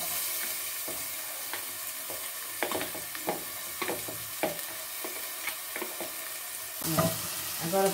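Steady sizzle of onion frying in oil in a pot, with repeated scraping and stirring clicks from a utensil throughout, close by; no one speaks.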